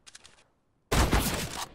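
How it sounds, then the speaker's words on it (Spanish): Gunfire in CS:GO: a faint, brief crackle of shots, then a short gap and a loud, close burst of rapid automatic fire lasting under a second. "Falla el disparo."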